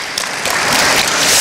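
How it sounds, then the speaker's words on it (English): Dense applause from an audience honoring student government leaders at a university lecture and white coat ceremony, a steady close wash of clapping that swells slightly after a moment. "will you give them a round of applause?"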